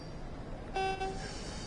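A horn sounds in Train Sim World 5, two short steady blasts in quick succession over a low background hum, moderately loud and fairly close.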